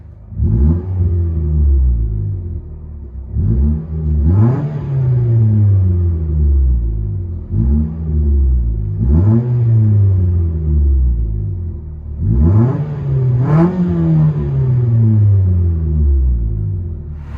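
A 2017 Mitsubishi Lancer with a 2.0-liter engine and straight-pipe exhaust with a 5-inch tip revs repeatedly, close and loud: five rising blips that each fall back to a deep rumbling idle, with no talking.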